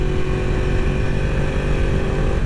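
A motorcycle ridden briskly fast, its engine holding a loud, steady, close drone throughout with no voices.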